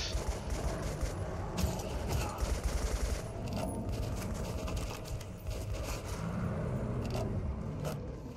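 Rapid bursts of AK rifle fire in the Metro 2033 Redux shooter, a dense rattling fusillade that keeps going through most of the stretch, with scraping and clatter mixed in.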